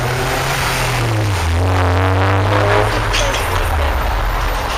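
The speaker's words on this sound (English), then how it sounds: "Traffic!" Loud road traffic close by: a vehicle engine drones and shifts pitch as it passes, over constant rushing road noise.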